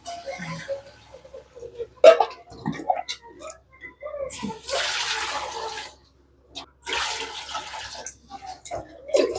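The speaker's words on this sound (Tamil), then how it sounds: "இப்போ வந்து தண்ணி அளந்து ஊற்றிக்கலாம்" Water pours in noisy broadband bursts, measured into a cooking pot in several separate runs with short pauses, alongside scattered clatter, while making white kuska rice.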